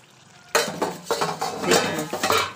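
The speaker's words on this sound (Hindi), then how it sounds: "इसमें उबाल आ गया और देखिए कितना सारा चिकन ने तेल छोड़ दिया" Chicken curry bubbling in a pot with oil released, scraped and stirred with a metal spoon in several quick strokes after a sudden start, close and fairly loud.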